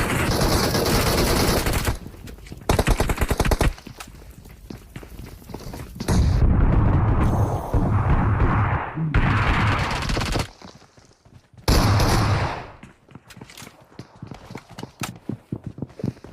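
Gunfire rattles in a BGMI mobile battle game session as loud bursts of rapid shots break off into quieter stretches, with long volleys alternating with short gaps and sharp single cracks near the end.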